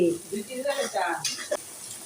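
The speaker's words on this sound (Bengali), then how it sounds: "এখন দিয়ে দিলাম পেঁয়াজ ব্লেন্ড করা একটু দিচ্ছি" Blended onion paste sizzling in a pan for chicken korma, a close, soft frying hiss with a few light utensil scrapes and clinks, heard under and between brief bits of voice.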